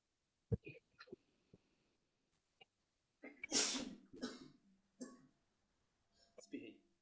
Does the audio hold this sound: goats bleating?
no